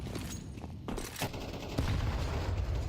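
Counter-Strike 2 gunfire crackles in a few dense bursts of shots over a steady low rumble, fairly loud and close, with no voices.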